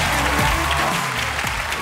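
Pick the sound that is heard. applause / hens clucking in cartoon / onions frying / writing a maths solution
applause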